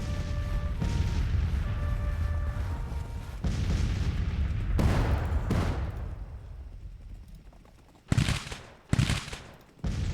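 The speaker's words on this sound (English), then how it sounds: "taking artillery fire" Artillery fire in Grand Tactician: The Civil War, a Civil War strategy game: rolling booms and musket-like volleys run on continuously, then fade before three sharp, loud blasts ring out near the end.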